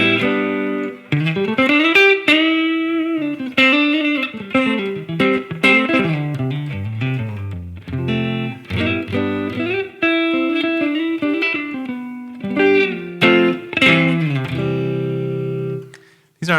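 A Strat-style electric guitar on its neck pickup plays through a high-powered tweed amp setting. Clean, bright single notes and chords ring out in a loose phrase, heard alone without talk.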